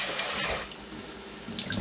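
Tap water running into a pot for cooking rice, a steady splashing stream from a kitchen faucet, close and continuous, briefly growing brighter near the end.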